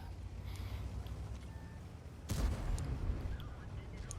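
A tank cannon shot from a Bat-Chat 25t in World of Tanks erupts midway as a sudden loud boom with a rumbling tail, following a quieter stretch of engine and battle ambience.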